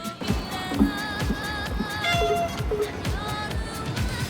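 A giant cat on a huge public video screen in a Japanese city meows several times, heard amid busy outdoor street noise.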